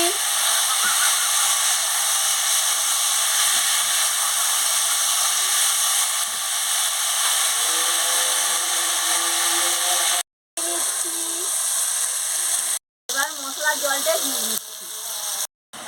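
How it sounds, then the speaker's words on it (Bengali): Vegetables hit hot oil in a pan for a Bengali fish bati chorchori and sizzle in a loud, constant hiss, broken by stirring scrapes and a few brief drops out. "তেল গরম হয়ে গেছে এবার আমি সব আনাজগুলো আনাজ সব ঢেলে দিচ্ছি একটু নাড়িয়ে নিচ্ছি"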